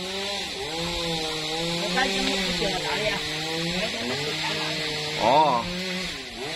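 A chainsaw cuts a jackfruit tree, its engine droning continuously with rising and falling pitch as it bites into the wood, with a brief exclamation from a voice.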